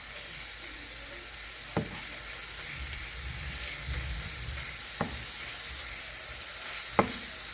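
Onions and beef sauté in a hot pan for beef shell pastry pies, giving a continuous close sizzle broken by three sharp utensil taps.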